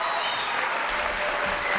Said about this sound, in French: Applaudissements pour monsieur Baumgart.